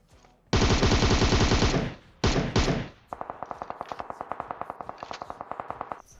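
Loud automatic gunfire in the battle royale game PUBG Mobile: a long sustained burst, two shorter blasts, then a rapid string of evenly spaced individual shots, close and dominant with no speech.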